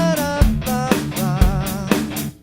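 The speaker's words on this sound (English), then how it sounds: "if you were a bassist, your track would sound like this. We would mute the bass." A metalcore backing track with the bass muted, where loud rhythmic chugging guitars and a wavering melodic lead pulse in a steady repeating pattern over about two seconds, without speech.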